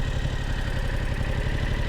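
A Yamaha motorcycle engine runs steadily close by, a continuous low, throbbing idle with even pulsing and no voices.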